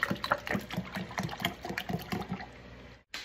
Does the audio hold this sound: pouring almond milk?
yes